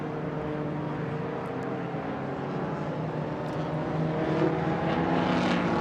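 Vintage race cars run past on the Indianapolis track, making a steady, fairly distant engine drone with a layered mechanical whine that swells slightly louder toward the end.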